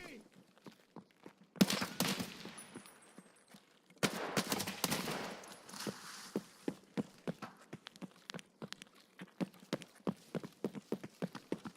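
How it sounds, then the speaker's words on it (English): Gunfire in Escape From Tarkov: loud bursts of rapid shots, then a long run of evenly spaced single shots ringing out at a distance, with a player talking in between. "Is that you over there at Lexos shooting like hell?"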